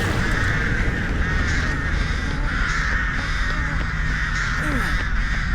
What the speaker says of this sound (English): Get off of me, birds.